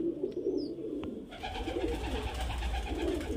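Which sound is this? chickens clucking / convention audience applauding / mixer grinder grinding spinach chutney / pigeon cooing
pigeon cooing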